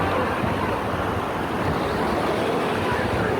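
Heavy surf from large ocean waves breaking near a shore where athletes are being brought back in, a dense, steady roar with wind buffeting the microphone throughout.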